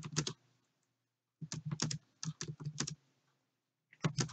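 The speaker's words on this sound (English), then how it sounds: "And go ahead and start typing your y values in." Clacking keystrokes on a computer keyboard come in quick bursts of several taps separated by short pauses, close and fairly quiet, as numbers are entered into a spreadsheet.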